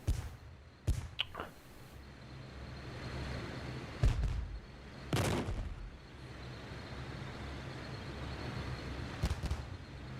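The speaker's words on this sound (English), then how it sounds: "there goes our artillery firing upon it" Artillery firing in the WWII strategy game Theatre of War 2 at the Battle of Cheux: several sharp, booming blasts spaced irregularly, with a couple of distant cracks and rumbling tails between them.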